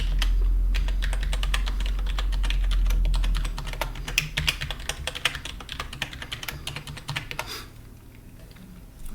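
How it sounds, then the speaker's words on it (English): A password being typed on a computer keyboard while creating an Active Directory user, a close, brisk run of key clicks in uneven rhythm, fading out near the end after a low hum, no talking. "Once we've typed the password and confirmed the password"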